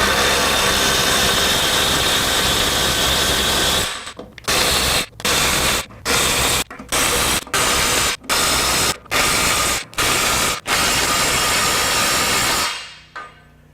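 A Ridgid sub-compact impact driver on Titan mode hammers fasteners down, giving a loud continuous rattling whir and then a rapid series of short bursts separated by brief pauses, with no speech.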